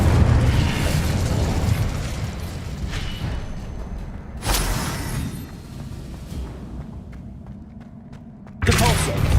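Fire spell effects from a Harry Potter wizarding video game, loud bursting whooshes and booms over a continuous dense game soundscape, with sharp flares near the middle and again at the end.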